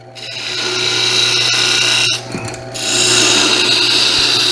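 A spindle gouge cuts a wooden top on a spinning lathe, giving a continuous close scraping hiss over the motor's hum, which briefly dips midway before the cut resumes.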